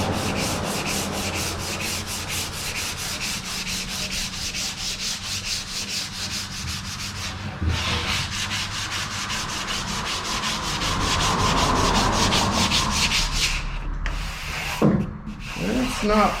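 Steady, close rubbing strokes of a coarse 180-grit sanding block working over filled bodywork, continuous and rhythmic for the whole stretch, with a few knocks and handling clatter near the end.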